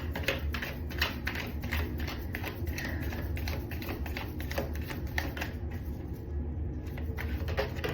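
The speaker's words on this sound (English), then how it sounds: "Okay, I'm gonna shuffle some more." A deck of tarot cards being shuffled by hand, a fairly quiet run of rapid papery flicks and taps repeating in quick irregular bursts, close by, with no speech.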